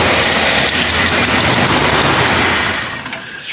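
An old Jeep engine, carbureted and left sitting for 25 years, runs loud and steady close by with a rough, dense roar, then drops off sharply near the end.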